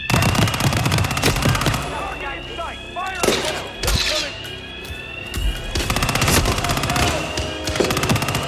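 Gunfire from a gun in the video game Hitman 3: loud, rapid automatic bursts, repeated stretches of rattling shots broken by short pauses and thuds, with game voices mixed in.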